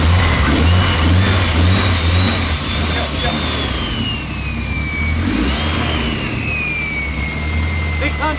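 Loud, steady engine noise with a whining tone from a Nissan Silvia S15 running a 2.2 liter sleeved SR20 with a VVL head, heard up close throughout with revs gently rising and falling.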